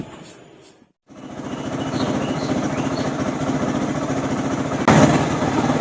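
A Yamaha Byson motorcycle with a cut intake sits quiet briefly, then its engine catches and idles with a steady throbbing pulse before a short rev near the end.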